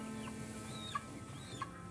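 A broiler chicken on a farm weigh scale gives two or three soft, short clucks, fairly quiet against a constant low background hum in the poultry house.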